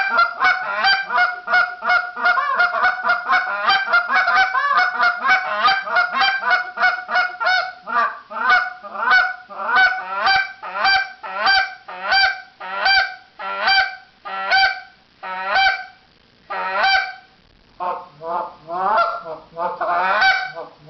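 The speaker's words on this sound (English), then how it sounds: "That's your buzz cluck." A Shoreman goose call blown in a buzz cluck: a loud, rapid string of sharp honking clucks, tightly packed at first, then spaced into a slower, uneven rhythm, with no other sound.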